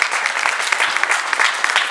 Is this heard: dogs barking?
no